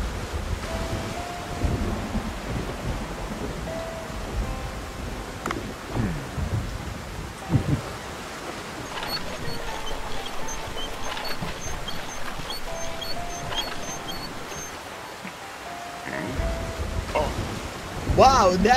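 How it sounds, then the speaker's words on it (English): A heavy thunderstorm with rain in the Dave the Diver video game, steady broadband rain and wind noise with a few low thunder rumbles and soft game tones over nearly nineteen seconds. "Wow, nasty storm today."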